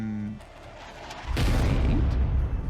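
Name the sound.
cannon firing in a chess video game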